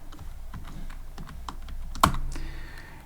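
Keys on a computer keyboard are tapped in quick, uneven bursts at close range, with a sharper louder clack and a brief rattle about two-thirds of the way through.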